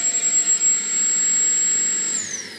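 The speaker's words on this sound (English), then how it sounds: "That's the lowest suction, which has a bit of a high whiny sound." Makita 40V CL001G cordless stick vacuum running on its lowest suction setting gives a steady, high whiny motor drone that rises after a brief start-up and winds down near the end, close and alone.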